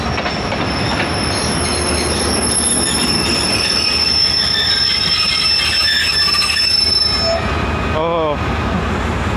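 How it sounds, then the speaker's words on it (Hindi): 11 Up Hazara Express rolling into a station behind locomotive AG 306013: a loud, continuous rumble of wagons close by, with wheels squealing throughout and a clatter near the end. "लें तो दोस्तों 11 अप हज़ारा एक्सप्रेस पहुंच गई"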